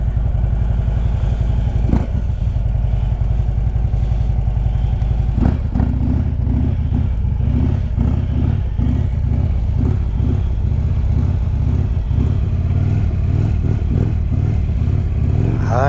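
A Harley-Davidson Road King with Reinhardt exhaust idles loudly and close, its deep lumpy V-twin throb steady throughout, with a couple of sharp blips of the throttle and mechanical clatter.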